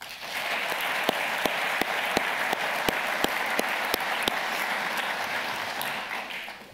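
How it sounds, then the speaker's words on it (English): Applause fills the hall at a U.S. Naval Institute annual meeting awards ceremony: a large audience claps in a steady wash for several seconds, with a few sharp nearby claps standing out in a regular beat. "please give him a round of applause"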